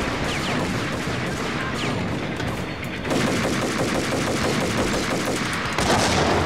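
Sustained automatic gunfire in the Max Payne video game, dense rapid shots rattling continuously for several seconds and growing louder toward the end, with no talking over it.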